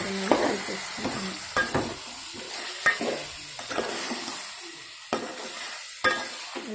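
Mutton curry stirred with salt in a pan: a steady sizzle runs under repeated scraping strokes of a spoon, with sharp clacks roughly every second, close and moderately loud, no talking.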